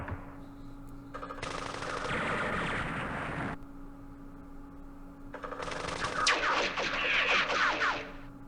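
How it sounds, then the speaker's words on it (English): Machine gun fire in the war game Campaign Series Middle East comes in two sustained rattling bursts, the second harsher and more crackling, separated by a brief lull. "There's an RPG, machine gun, plus an infantry platoon."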